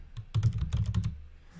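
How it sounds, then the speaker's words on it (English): Fingers typing on a computer keyboard, a quick run of about a dozen close, distinct key clicks in an uneven rhythm, with no voices. "if we type in stress relief"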